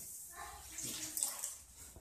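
Water runs steadily into a foamy bath, a faint, continuous hissing splash with soft bubbling.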